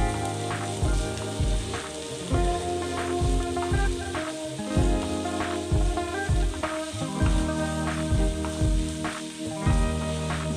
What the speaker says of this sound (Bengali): পেঁয়াজটা দিয়ে আমি একটু পেঁয়াজটাকে হালকা সটে করে নেব।